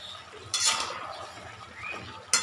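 A spoon stirs melon seed paste into fried vegetables in a cooking pan, giving two distinct bright metallic scrapes against the pan with quiet shuffling between them.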